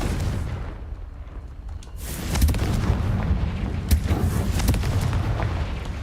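A Confringo blasting spell goes off in Hogwarts Legacy. A quieter stretch gives way to a loud, rumbling explosive boom with crackling bursts that hold on for several seconds.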